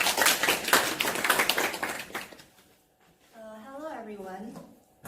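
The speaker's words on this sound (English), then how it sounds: "give her a big warm round of applause." An audience gives a burst of lively applause with crisp clapping that fades out after about two and a half seconds, followed by a brief pause before a single voice begins speaking.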